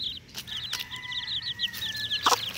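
Rapid high peeps from seven chicks chirp in a continuous run, with their mother hen's low cluck near the end, close by in a quiet outdoor setting.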